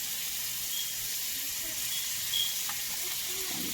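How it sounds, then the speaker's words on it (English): Steak going into a pan on a low stove, giving a steady close hiss of sizzling fat with faint crackles, heard alone without talk. "now I'm going to add my steak to the pan"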